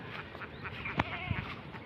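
A goat tethered in the hot midday sun beside a field bleats, one short, wavering cry rising over steady outdoor background noise, with a few faint thumps nearby.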